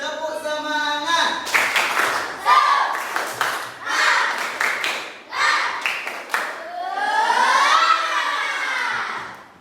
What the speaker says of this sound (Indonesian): Tapi masih lemas. Tepuk semangat.